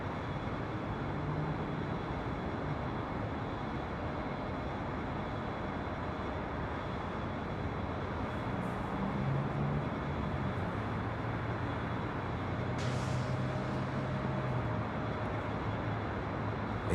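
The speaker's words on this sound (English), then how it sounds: "Delta Airlines Flight 1337 coming in from Austin, Texas" A Delta Airlines Airbus A320 arrives at LAX, its engines a steady, faint, distant roar that swells slightly midway and holds without a break.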